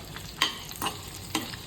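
Chicken frying with masala in a pan sizzles steadily while a utensil stirs it in a few distinct scraping strokes, close and moderately loud.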